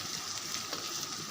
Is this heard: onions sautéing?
yes